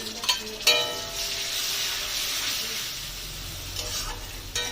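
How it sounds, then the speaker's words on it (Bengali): Onion paste goes into onions already frying in a pan for crab malai curry, raising a loud, sustained sizzle framed by a few sharp stirring scrapes up close. "এবার দিয়ে দেবো যেটা আমি পেঁয়াজ বাটাটা রেখেছিলাম সেটা দিয়ে দিচ্ছি"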